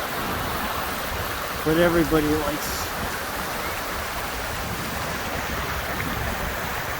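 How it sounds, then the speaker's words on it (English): McHugh Creek rushes past in a steady, broad hiss of flowing water beside a hiking trail near a highway, with a short spoken phrase briefly rising above the continuous wash. "Okay, so just too much video of water of the stream"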